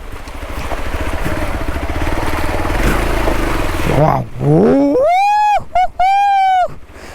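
A motorcycle ridden along a risky path near the Odugathur waterfalls gives a steady engine drone mixed with wind rush for about four seconds, then a voice takes over with rising, sliding tones.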